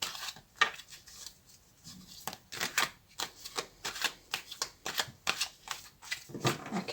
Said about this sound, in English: I'm going to use the Rider-Waite Tarot because it's my favourite deck. Let me just shuffle it a little bit initially.